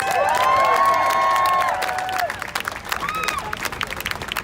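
Crowd at a 2018 animal rights march in New York breaks into applause and cheering, loud and close at first, with whistle-like tones and shouts, then thinning to scattered claps and voices.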